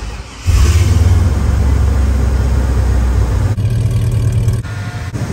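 A 2000 Chevy engine fitted in a 1950 Chevy truck cranks and fires, then settles into a loud, steady idle up close, with a small dip near the end.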